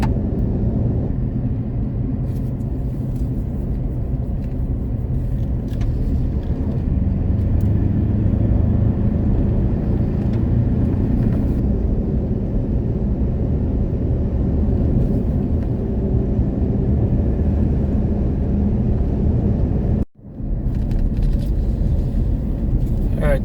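Steady motorcycle engine drone and tyre rumble while riding a gravel road across the Utah desert on old US Highway 6 and 50, continuous and close, with a brief dropout near the end.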